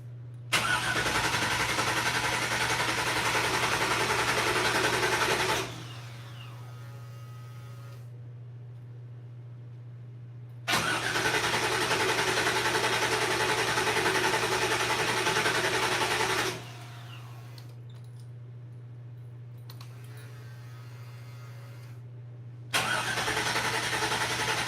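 Toyota FJ40 engine in an off-road shop, cranking and catching into loud running in repeated bursts, with quieter pauses between attempts and a steady low hum underneath throughout.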